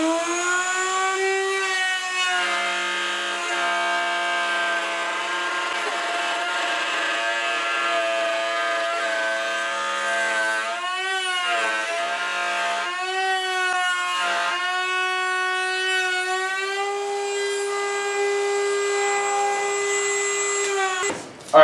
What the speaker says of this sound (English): I'm going to route out a dado that lines up with the holes that I put in there for the center shelf